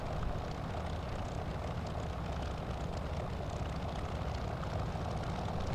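A Curtiss P-40F Warhawk's engine in flight within a flight simulator game, a steady, even propeller-engine drone that holds at a constant level throughout, with no voices.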